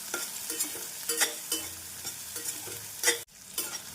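Chopped shallots fry in a pan for a tamarind curry, with soft sizzling under repeated scraping strokes of a stirring spoon, close and rhythmic, one sharp knock near the end.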